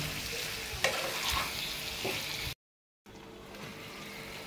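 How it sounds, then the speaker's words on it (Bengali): Roasted cumin powder gently frying over low heat in a pan of cooked beef tripe: a soft, steady sizzle with occasional stirring scrapes, interrupted by a brief cut to silence before the low frying resumes. "এখন এইটাও আমি আস্তে আস্তে নিভা জালে একটু ভাজা ভাজা করব।"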